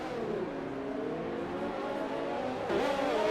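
Ferrari Formula 1 race car engine in a racing video game at the Chinese Grand Prix, a steady high-pitched engine whine holding revs then briefly dipping and climbing again as it accelerates, loud and continuous with no talk.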